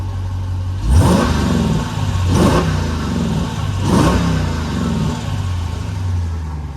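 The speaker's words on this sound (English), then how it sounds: "We'll put it in track mode to see if we can open up the valves a little bit more aggressively in the exhaust." A 2022 Dodge Durango SRT exhaust in track mode, three loud, sharp revs rising and falling about every one and a half seconds over a deep idle rumble.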